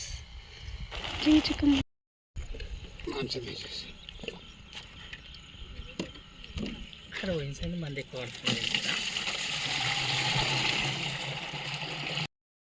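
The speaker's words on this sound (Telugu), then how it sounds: "మేము నీళ్ళు పోస్తున్నాం" Water splashes and gurgles as it is poured in a cotton field, with people talking over it and a steadier rushing pour near the end.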